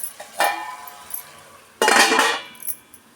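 A plate set down over a pot of mutton curry, giving a couple of separate clinks and clatters of crockery on metal with short pauses between them, close and fairly clear, with no voices.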